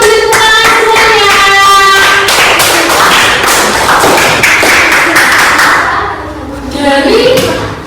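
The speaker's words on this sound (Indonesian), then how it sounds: "Selamat beri tepuk tangan semuanya" Children in an elementary school classroom clap together in a loud, rhythmic burst of patterned beats that loosens into scattered clapping and chatter before fading.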